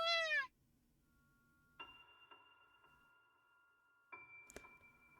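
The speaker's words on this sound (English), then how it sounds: "The transceiver cat meows sweetly in reply." A small black kitten gives a short, sweet meow right at the start, close and clear, followed by quiet electronic tones and a brief chime in a game scene.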